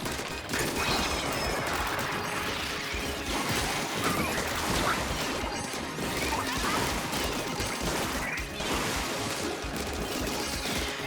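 A flurry of ink strike explosions in Splatoon 3's Side Order mode keeps up a dense, crashing wash of splattering blasts, overlapping bursts and surging, surf-like rushes, loud and continuous throughout.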